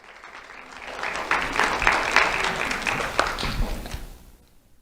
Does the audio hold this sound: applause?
yes